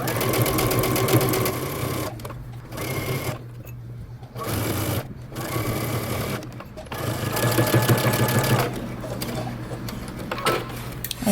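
Sewing machine back-stitching and running a seam on a bomber jacket, a steady loud mechanical whirr with a couple of brief pauses where the needle stops, close by.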